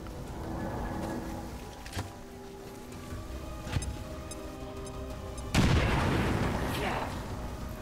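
A shot breaking through a wall in XCOM 2, heard as a sudden loud burst of crumbling impact with a rumbling tail, preceded by a few sharp clicks and thuds over steady game ambience.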